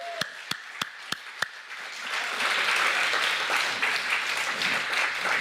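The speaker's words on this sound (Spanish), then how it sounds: "Dele palmas al Señor, hermano." At a church service, several sharp, separate hand claps ring out at first, then the congregation breaks into sustained, loud clapping that continues to the end.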